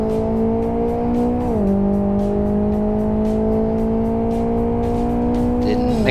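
Race car engine in the Live for Speed racing game held at full throttle, a steady loud drone with layered harmonics that dips briefly around a gear change and then climbs again, with light tire noise and no voices.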